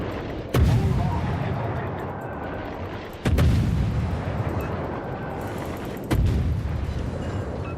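Heavy naval guns of a battleship firing in a World of Warships match, three thunderous booms spaced a few seconds apart, each followed by a long rumbling decay over constant background noise.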